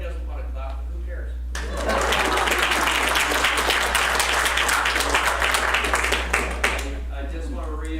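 An audience at a church lecture breaks into applause, a dense burst of clapping that swells after a quiet stretch and fades near the end, with a low steady hum beneath and some talk before it starts.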